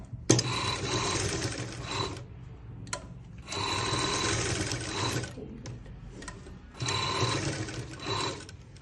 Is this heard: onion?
no